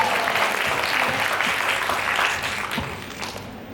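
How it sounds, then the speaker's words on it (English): A graduation ceremony crowd applauds in a steady, loud wash of many hands clapping for a few seconds, easing slightly toward the end. "Let's give ourselves another big round of applause."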